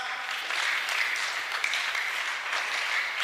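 A Sunday school gathering in church breaks into brief, fairly soft, steady applause, a continuous patter of many hands clapping with no talk over it.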